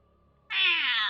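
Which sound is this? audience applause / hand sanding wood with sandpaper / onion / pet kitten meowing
pet kitten meowing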